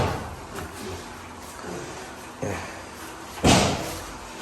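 A drawer is pushed shut with a few soft knocks and scrapes before a louder thud near the end, while room noise continues.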